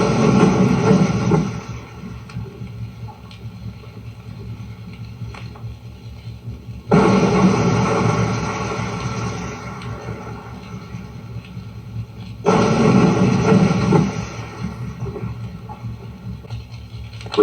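Three deep, rumbling underwater booms from WWII depth charges at 4,000 yards arrive one after another, each swelling suddenly and fading into a long low roar before the next.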